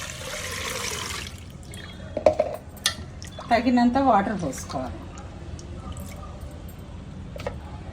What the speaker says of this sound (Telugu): దానికి తగినంత వాటర్ పోసుకోవాలి